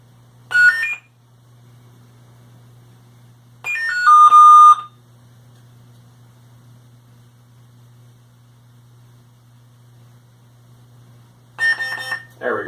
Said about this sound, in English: it'll do that 3 consecutive beeps